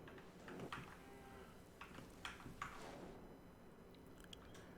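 Cattle lowing in the video game Dawn of Man, a few short low moos spread across a steady ambient bed of game sound, moderately distant.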